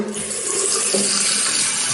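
A hot water tap runs steadily, a loud, continuous rush of water splashing into a basin with no pauses.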